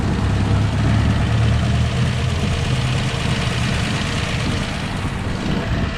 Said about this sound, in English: Tyler is going to adjust the tappets on the 6-cylinder whilst it's running.